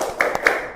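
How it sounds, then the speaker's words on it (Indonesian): Children in a classroom do a short rhythmic spirit clap, a few quick sharp claps in under a second, close and fairly loud. "Tepuk semangat."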